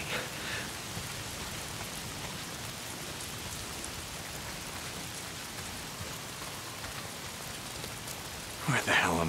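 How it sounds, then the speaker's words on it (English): Steady rain falling in the open-world video game Days Gone, a continuous dense hiss of drops on surfaces that holds even throughout, with a brief louder burst near the end. "If it's not the freaks, it's the goddamn rain."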